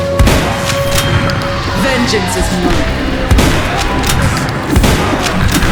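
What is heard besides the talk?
gunshots and explosions from an indie run-and-gun video game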